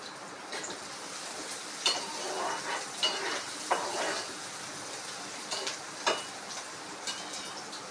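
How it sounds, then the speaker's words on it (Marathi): Onion and chili frying together in oil in a pan while cooking methi bhaji, a steady soft sizzle broken by occasional stirring clinks and scrapes, close and moderate, no talk. "आता मी कांदा आणि मिरची एकत्र छान भाजून घेते"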